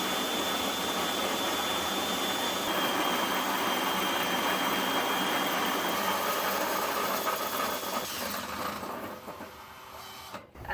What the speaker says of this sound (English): a bucket, a grain mill, and a drill. Grinding some grains.